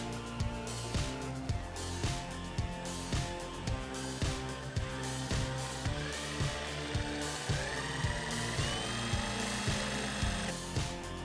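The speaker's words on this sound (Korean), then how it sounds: "먼저 FID2부터 작동시켜 보겠습니다." A Milwaukee M18 FID2 impact driver runs in repeated short, rapid hammering bursts, with brief pauses between the runs. The sound is close and fairly quiet.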